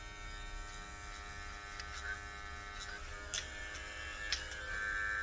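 Babyliss hair clippers buzz steadily and faintly while lining a taper haircut, with a few light ticks and clicks over the drone.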